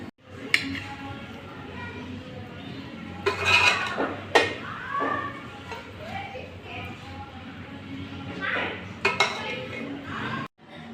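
Pots and utensils clink and clatter in a home kitchen as freshly cooked chana (chickpea) biryani is dished out, scattered sharp metallic knocks over steady background noise, with a voice talking at times.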